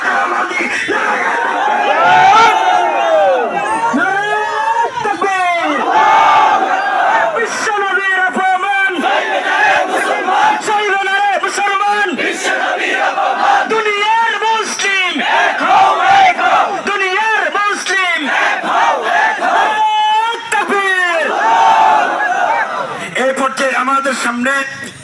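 A large crowd at a Bangladeshi Islamic rally shouting Allahu Akbar in answer to a Nara-e-Takbir call, loud massed voices in repeated surging chants that continue through the whole stretch.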